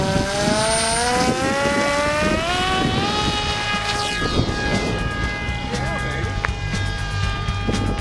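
An FF-64 Recon RC plane with a KFm2 airfoil flies on its maiden flight, its electric motor a rising, shifting whine with steady harmonic tones over gusty wind, while people talk throughout.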